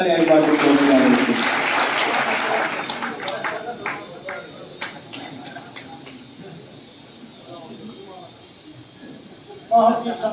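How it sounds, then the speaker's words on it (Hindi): An audience at an honoring ceremony in Mahendergarh breaks into applause, strongest at the start and thinning into scattered claps within a few seconds, after which a voice speaks over a quieter background with a brief burst near the end. "जोरदार तालियां इस बात को"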